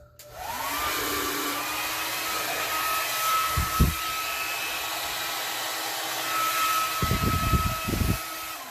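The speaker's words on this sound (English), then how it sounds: "And same thing, blow dryer." A hair dryer blows with a steady, loud whirring roar, interrupted by a few low thumps and handling knocks.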